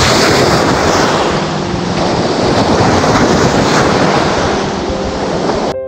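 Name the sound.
sea waves at the shore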